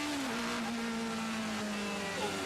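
GT race cars running side by side at Croft circuit during a 2005 British GT Championship race, engines droning steadily at mid distance with a slowly falling pitch, a continuous loud roar throughout.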